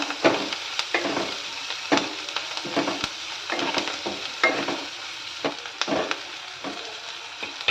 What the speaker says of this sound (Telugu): ఆనియన్ ఇలా ఫ్రై అవుతున్నప్పుడు మనం కొద్దిగా సాల్ట్ యాడ్ చేసుకున్నట్లయితే ఆనియన్ అనేది త్వరగా ఫ్రై అయిపోతుంది